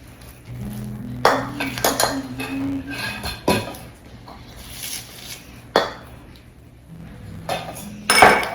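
Banana nut muffin batter is mixed in a bowl, with scattered clinks and knocks of a utensil against the bowl, some sharp and bright, spaced irregularly over a quiet background.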